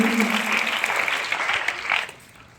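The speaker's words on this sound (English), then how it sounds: "Please clap for them." Students at a school morning assembly clap for classmates, a brief burst of dense applause with some voices mixed in, tapering off abruptly after about two seconds.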